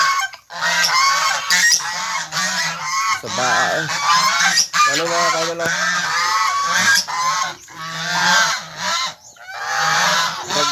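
Geese honk loudly and repeatedly in a farmyard alongside other fowl, with harsh overlapping calls filling the scene nearly the whole time and brief speech in between.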